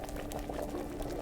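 A potion of herbs and poppy bubbling in a cauldron in the video game Kingdom Come: Deliverance, a continuous close boiling burble with a faint steady tone underneath.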